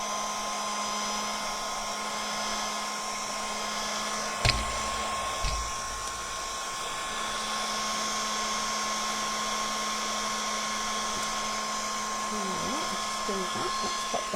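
A heat tool blows steadily and loudly close by while setting ink on a decoupage craft project, a constant whirring hiss with a few small handling knocks partway through.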